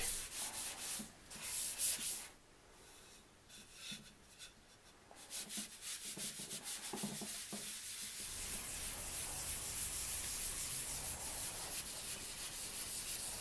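Sandpaper rubbing across a wooden banjo neck in short back-and-forth strokes, sanding off shellac, then a longer continuous stretch of steady sanding, close and fairly quiet.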